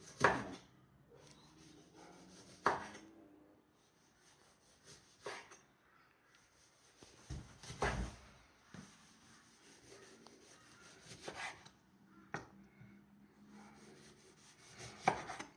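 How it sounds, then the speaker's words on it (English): A not-very-sharp kitchen knife slices lemons and limes thinly for marmalade, giving a series of irregular soft cutting strokes and board taps spaced a second or two apart, close and quiet, with no talking. "Particularly with the limes, it's better if you cut them very, very thin if you can."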